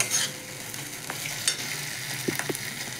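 Bitter gourd (kakrol) curry sizzles softly while being stir-fried over a low flame, with a steady faint crackle broken by a few sharper spatula scrapes and stirs near the end.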